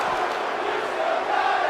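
A wrestling arena crowd in the WWE 2K18 video game roars in a steady, dense wash of chanting and cheering, loud and continuous throughout with no clear pauses.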